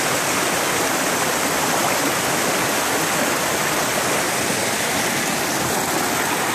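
Water pours steadily down a natural rock slide into a swimming hole off a side trail of the Zealand Trail, a loud, continuous rushing close to the microphone with no voices.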